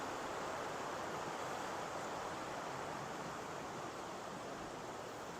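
The river at Tel Dan rushes in an even, broadband wash of flowing water. It stays steady and faint throughout, with no voices.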